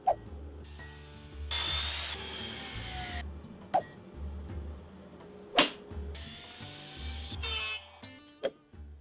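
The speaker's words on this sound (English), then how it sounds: "I started by drilling the recess for the head of a brass bolt on the back side with a Forstner bit" A Forstner bit drills a recess into wood for a brass bolt head, giving several bursts of whirring cutting noise broken by sharp knocks, fairly close and with no voices.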